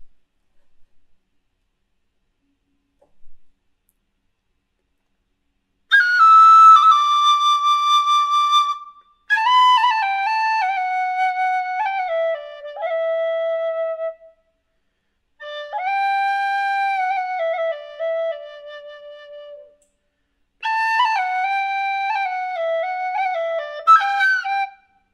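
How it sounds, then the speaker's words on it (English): Tin whistle playing a Celtic melody, clear and close, in four phrases of sustained, stepwise legato notes separated by short silences, with no talk. "This is a tin whistle used in Celtic music. I'm gonna play it"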